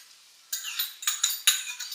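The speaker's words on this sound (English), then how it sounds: "to the rest of this butter, I'm going to add 1 cup of chopped onion" Chopped onion goes into butter in a pan, a few close utensil clinks and scrapes against the metal with a light hissy rustle, brief and up close.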